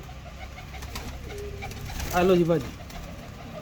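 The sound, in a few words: pigeon cooing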